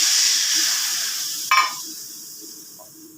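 Liquid gravy poured into hot spiced oil for a Bengali fish curry (tel koi), giving a sharp, close burst of sizzling that quickly settles into a steady, fainter hiss.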